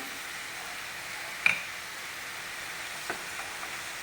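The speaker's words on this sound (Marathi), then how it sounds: "एक मिनिटभर आपण हे छान मिक्स करून घेऊया साखर विरघळेपर्यंत" Homemade tomato ketchup with sugar, garlic and onion is stirred in a pan, giving a steady low sizzling hiss with a couple of faint spoon clicks against the pan.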